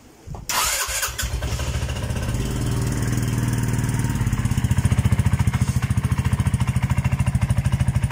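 A Yamaha RFi175 scooter with a stock pipe and resonator starts with a sudden crank and catch, then idles with a steady throbbing pulse that grows slightly louder and more pronounced toward the end, heard up close.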